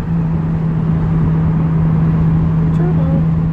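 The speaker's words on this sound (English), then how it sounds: "Turbo. Spooling season." An Audi S4 Avant pulling through a tunnel at about 40 in second gear: a steady, loud engine drone with a faint rising turbo whistle near the end, echoing in the enclosed space.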